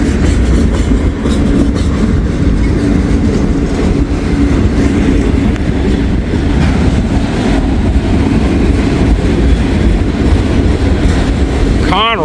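Heavy freight cars, including an old Conrail gondola, roll past close by in a continuous loud rumble and clatter of wheels on rail, with a brief high squeal at the very end.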